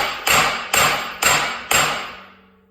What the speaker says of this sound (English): you want to get a hammer and pound on it.